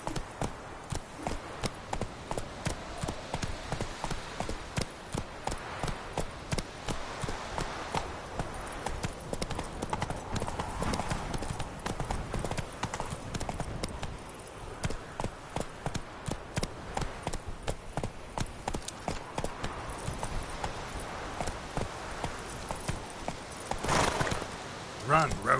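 The horse Roach gallops in The Witcher 3: Heart of Stone, a rapid steady clip-clop of hooves running throughout, with a voice speaking over it at times.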